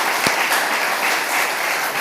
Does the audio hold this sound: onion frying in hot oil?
no